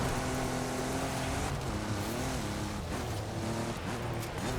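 A 2017 Ford F-150 Raptor in Forza Horizon 5 drifts through a corner, its engine roaring steadily, with pitch dipping and climbing as revs shift and tire noise underneath.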